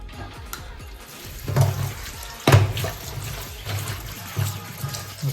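Running water from a tap splashes over freshly cleaned small fish being washed, a steady close trickle with a few louder gushes and splashes as the fish are handled.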